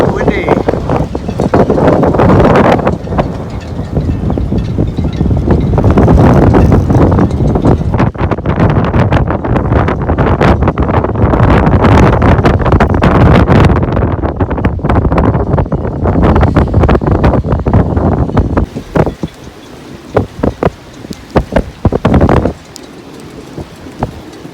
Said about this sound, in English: The wind's blowing about 30. Pretty blowy. A little bit of rain.